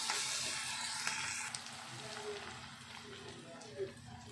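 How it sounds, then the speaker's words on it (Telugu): Prawns frying in oil in a home kitchen pan, giving a steady, fairly quiet hiss and sizzle with a few soft stirring clinks, continuous throughout with faint background voices. "వీటిని కూడా బాగా నూనెలో వేగనియాలి."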